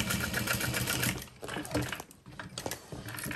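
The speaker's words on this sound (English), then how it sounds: "So I'm just going to baste mine right here with like 1/4 inch further in the seam allowance." A sewing machine bastes a seam on a handbag a quarter inch inside the seam allowance, running steadily and loudly for about a second, then slowing into shorter, quieter bursts of stitching.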